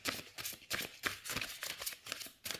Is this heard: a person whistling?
no